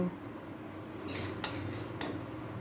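Fried banana flower (thor bhaja) is moved into another pot with a metal utensil, two or three sharp clinks of metal on metal over quiet kitchen background.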